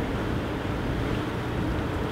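Ocean waves wash over rocks below a high cliff in the Bahamas, a continuous dense roar of surf mixed with wind, with no talking.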